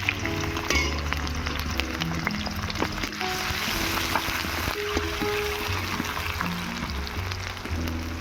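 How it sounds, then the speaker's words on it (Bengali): Dried red chillies fry in hot oil in a pan, a steady crackling sizzle with scattered pops close by, over a low background hum. "শুকনো লঙ্কা দুটোকে একটু ভেজে নেব।"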